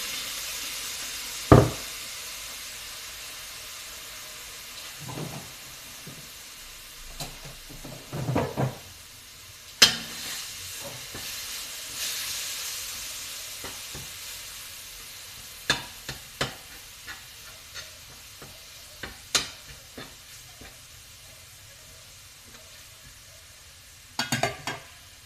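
Ground pork sizzling in a pan for homemade fried rice, a quiet steady fry broken by sharp clanks and scrapes of a utensil against the pan, with several distinct knocks scattered throughout.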